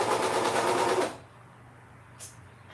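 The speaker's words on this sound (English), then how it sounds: "Just letting the serger pull it through." A serger runs fast for about a second, stitching a t-shirt seam with a rapid buzzing whir, then stops, leaving low room hum and a brief faint rustle.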